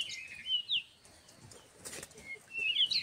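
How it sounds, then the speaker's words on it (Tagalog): Birds flutter and flap their wings in short bursts close by outdoors in the winter Bosnian countryside, with faint high chirps between the wingbeats. "The birds are singing."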